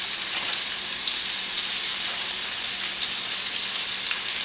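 Corn tortillas warm in a hot pan with a soft, continuous sizzle, a light crackle that holds at a steady low level with no voices over it.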